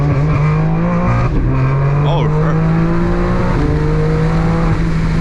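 A BMW G82 M4 engine revs and pulls hard under acceleration, a loud steady drone rising slightly in pitch throughout, with people talking over it inside the cabin.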